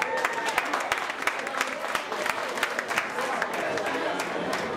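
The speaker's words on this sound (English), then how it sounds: "Give our ladies a nice round of applause." A television show audience gives a round of applause for a group of women performers, steady dense clapping with crisp individual hand claps popping out, sustained at an even level.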